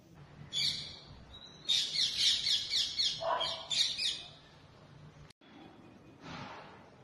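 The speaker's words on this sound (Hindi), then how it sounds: "तोता परिवार दाने चुभने जरूर आ रहा है" A family of parrots visiting a bird feeder by an open window gives a rapid run of shrill, repeated squawks and chirps, close and loud, then fades to softer calls over low background hum.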